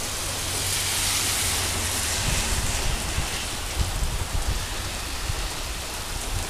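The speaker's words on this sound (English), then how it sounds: "It is pouring down rain." Heavy rain pouring down during a thunderstorm at night, a dense steady hiss of falling water with close, irregular low thuds from drops striking nearby surfaces.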